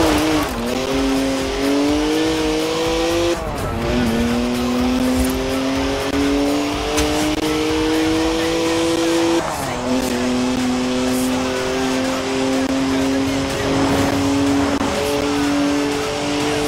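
BMW in the Forza Horizon 4 racing game revving hard through rising gear pulls, with tires squealing and skidding; a loud engine whine climbs, drops at shifts and climbs again, with occasional speech over it.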